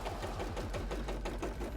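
A sewing machine stitches cosplay fabric with a steady, rapid mechanical chatter and regular motor pulses. It runs continuously and fairly close, with no voice over it.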